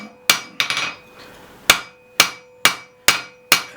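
A hammer strikes hot iron on an anvil while a taper is drawn out, giving sharp ringing blows, about eight in an uneven rhythm. The blows are close and clear, with no voices.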